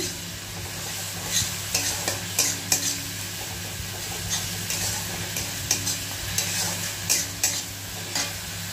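A spice masala paste with tomatoes and a little fresh coriander being stir-fried in a pan, with continuous sizzling under repeated scraping strokes of a spoon against the metal, close and fairly loud.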